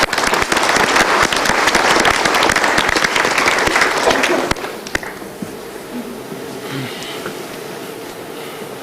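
Loud dense audience applause that holds for about four seconds, then drops abruptly to a quieter room with scattered faint claps and murmur.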